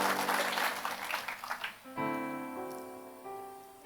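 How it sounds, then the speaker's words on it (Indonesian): Congregation applause at a sermon gathering, a brief burst of clapping that fades within about two seconds, after which sustained tonal music or keyboard carries on alone. "Yang setuju berikan tepuk tangan."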